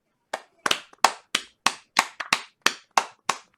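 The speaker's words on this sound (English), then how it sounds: "maybe you can just applaud everybody" Closing applause at the end of a panel session: about a dozen sharp, distinct claps from a single pair of hands at a steady rhythm, close and clear against silence.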